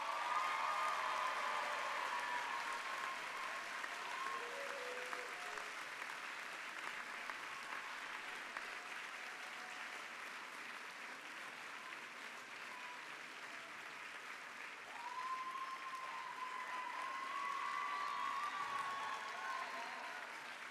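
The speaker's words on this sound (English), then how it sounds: "round of applause." A graduating medical school class at the Zucker School of Medicine commencement applauds, giving a long, sustained wash of clapping that sits faint and distant in a large hall, swelling slightly again near the end.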